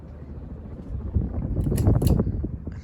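1994 Casablanca Delta II ceiling fan with an Emerson K55 motor, a soft low whirring hum that swells gradually, with faint clicks and light rattles near the end.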